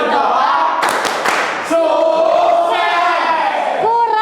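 A school class performs the rhythmic tepuk sukses clapping chant, with quick group claps followed by loud shouted voices of many children chanting together.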